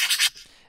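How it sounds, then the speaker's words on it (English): Marker-on-whiteboard sound effect from a whiteboard animation plugin: three quick close squeaky strokes in the first third of a second, then a faint fading tail. "You also have like a marker sound effect."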